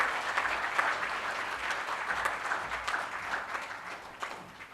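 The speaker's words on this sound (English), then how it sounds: "a big and collective round of applause for the bar leaders" Steady applause from an awards-ceremony audience honouring bar leaders at a Lawyers of India Day event in New Delhi, a dense, even wash of many hands clapping throughout with no talk over it.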